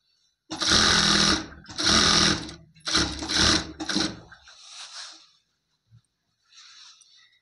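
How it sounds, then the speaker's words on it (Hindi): A sewing machine stitches the joined panels of an umbrella frock, running in four loud, close bursts of rapid whirring separated by short pauses. Fainter handling noise follows. "हम उसी तरीके से इस पर सिलाई लगा लेते हैं"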